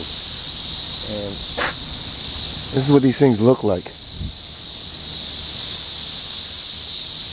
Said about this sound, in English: And then a weird sound you hear right there, it's called the cicada.